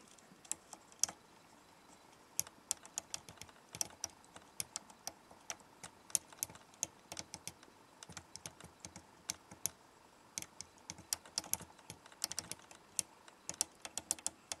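Keys on a small keyboard attached to a Raspberry Pi board are pressed repeatedly while playing Asteroids, giving irregular quick clicks and taps, some in rapid bursts, close and fairly quiet.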